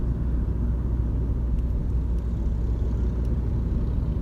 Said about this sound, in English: these towns again are full of all kinds of traffic